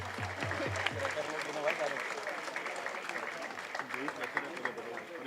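An audience claps for award recipients at a ceremony, giving steady, moderately distant applause with a low hum underneath. The level stays even across the whole stretch.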